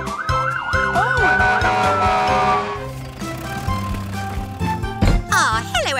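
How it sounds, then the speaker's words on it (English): Loud cartoon vehicle siren wails in a rising and falling nee-naw over rhythmic low thumping music, fading midway, then a quick burst of sliding siren tones returns near the end. "Now that's a loud nee-naw."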